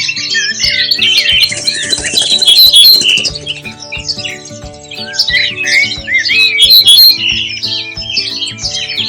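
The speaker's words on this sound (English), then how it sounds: "Bird number 10, ortolan bunting." Ortolan bunting singing close and clear, short repeated phrases of bright notes over a steady low hum, with a faint rhythmic thumping underneath.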